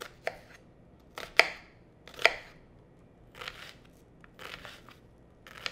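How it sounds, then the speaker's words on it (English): An onion being cut with a knife for a Lebanese fish and rice dish, a handful of sharp crunchy chops spaced irregularly, close up, with softer slicing strokes between them. "We'll start by cutting the onion."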